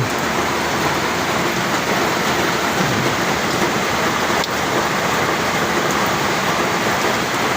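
Heavy monsoon rain pours down near the sea at Subic Bay, a dense, unbroken roar of falling water that stays loud and constant from start to finish.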